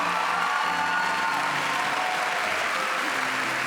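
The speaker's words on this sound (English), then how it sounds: "Let's honor her with our applause." Steady applause from an audience at an awards ceremony, dense and continuous throughout at moderate loudness, with a faint murmur of voices underneath.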